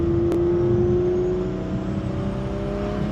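A turbocharged car engine runs in sport mode, loud and steady at a sustained rev with a faint whistling tone across the whole stretch.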